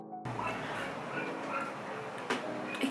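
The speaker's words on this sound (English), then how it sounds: "That dog is stealing my spotlight." A dog in an art student's room gives short yips and barks mixed with whimpering, close by and fairly loud, with sharper yelps toward the end.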